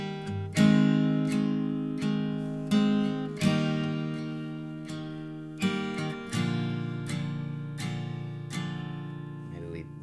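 An acoustic guitar is strummed with a thin 0.50 mm pick, playing Jerusalem as a series of bright, ringing chord strums at an unhurried pace, close up.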